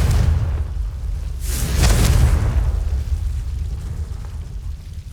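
A Confringo fire-spell explosion in Hogwarts Legacy: a dense whooshing burst swells and booms near the middle, then a rumbling tail lingers under steady game ambience.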